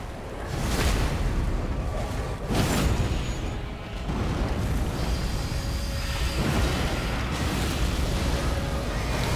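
Repeated heavy explosions burst in the game Elden Ring, several loud booms with whooshing blasts spaced a few seconds apart over a continuous rumbling battle din, with no speech.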